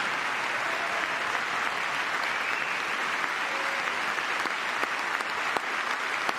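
An audience at Trump's speech to the nation applauds, sustained, even clapping that fills the whole stretch without a break and with no talking over it.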